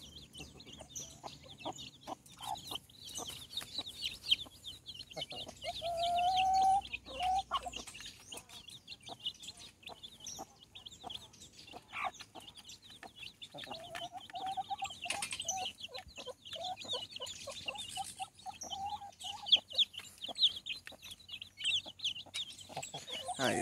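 A hen clucks softly to her chicks in a brooder pen, low murmuring calls repeating close by over a background of high peeping and chirping, with no talk.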